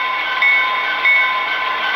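An HO scale Athearn Genesis SD70 model locomotive's sound decoder plays its bell, a bright electronic ringing repeated in a steady rhythm, close and fairly loud, with no talking over it.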